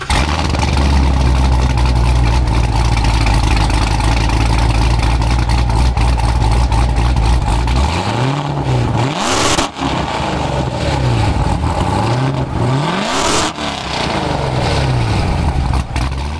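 Modified 2017 Corvette Z06 V8 with a Texas Speed Stage 3 cam, direct port methanol and NPP exhaust valves held open: a loud, lumpy idle rumble broken by two sharp revs that rise and fall, close and alone.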